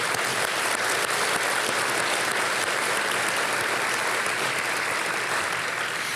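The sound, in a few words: applause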